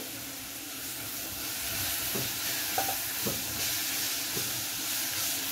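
Garlic sautéing with toasted vermicelli in a pan makes a soft, continuous frying hiss, fairly even throughout, with a few faint clicks of a spoon.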